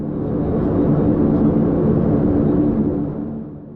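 An Aeropelican airliner on its takeoff roll makes a deep, steady engine roar and rumble that holds strongly for about three seconds, then begins to fade, with no voices.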